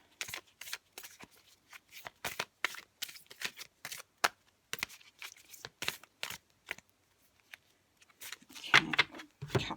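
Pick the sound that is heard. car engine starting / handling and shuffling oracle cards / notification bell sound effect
handling and shuffling oracle cards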